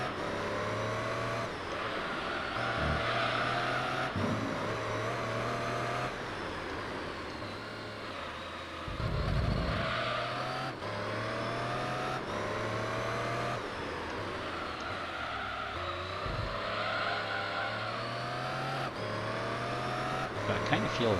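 A race car engine in Gran Turismo 3 revs and shifts through gears, pitch repeatedly climbing and dropping as it runs laps, with someone talking over it much of the time.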